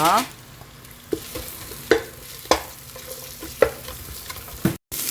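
Sliced onions being stir-fried in oil in a pan, a soft continuous sizzle punctuated by a handful of sharp spatula scrapes and taps at irregular intervals, close up, with a brief dropout near the end.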